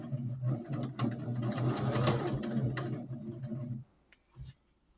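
A sewing machine backstitches quilt pieces for a Jeep quilt, its rapid needle chatter running steadily for nearly four seconds before stopping, followed by a couple of faint clicks.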